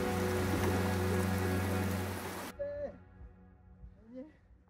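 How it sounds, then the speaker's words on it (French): Steady rain patters on a surface for a couple of seconds, then cuts off abruptly, followed by someone talking quietly. Outdoors on a mountain trek near Lac des Sept Laux, small drops under a dark sky. "il se met à pleuvoir. Pour l'instant, les gouttes restent petites,"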